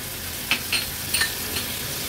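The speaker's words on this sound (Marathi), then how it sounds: "वाटण परतून झालं की वांग आणि बटाट्याच्या वगैरे फोडी केलेल्या त्या ऍड करूया।" Eggplant and potato pieces fry in a masala paste for a Maharashtrian Agri-Koli style vegetable dish, with a steady close sizzle and a few light scrapes of stirring.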